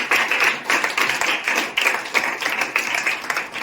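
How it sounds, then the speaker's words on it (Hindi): Loud, dense applause from a school farewell audience honouring a former student who became an IAS officer, steady clapping throughout with no voices over it. "तो जोरदार तालियां के लिए।"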